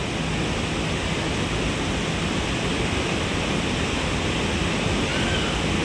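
A powerful roar of floodwater pounding against rocks, continuous, dense and loud from start to finish, with no pauses.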